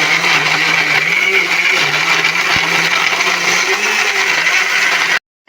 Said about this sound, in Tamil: இப்போ இதோட போட்டு நான் நல்லா நைஸாக அரைக்க போகிறேன்